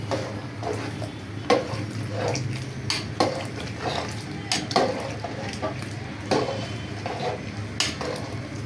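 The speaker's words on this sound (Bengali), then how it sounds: "এখন হলুদ দিলাম খিচুড়িত, নাড়াচাড়া করিয়া নিব" Khichuri being stirred in a pot after turmeric goes in, with a spoon scraping and clinking against the metal in irregular taps and knocks over a low steady background hum, close by, with no talk.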